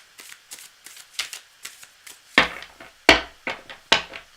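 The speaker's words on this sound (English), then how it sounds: "Cards are well shuffled now." A deck of tarot cards being shuffled by hand gives a close run of crisp riffles and flicks in an uneven rhythm, with a few louder slaps toward the end.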